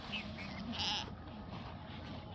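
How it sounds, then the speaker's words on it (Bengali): A red goat bleats once, faintly and briefly, in a quiet outdoor setting with low background noise and no talk. "আমার এই লাল ছাগলটার নাম হচ্ছে রুমি ওকে ধরা খুব কঠিন"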